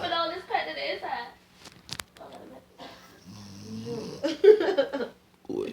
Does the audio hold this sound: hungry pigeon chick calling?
no